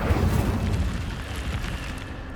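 Incendio fire spell cast in Hogwarts Legacy, a loud whooshing, rumbling blast that starts strongly and rolls on steadily, dense low-end roar with crackling texture throughout.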